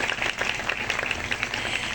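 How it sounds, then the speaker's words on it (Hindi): A family thanksgiving prayer gathering breaks into audience applause, dense and steady clapping from many hands at moderate volume with no talking. "आप ताली बजा सकते हैं।"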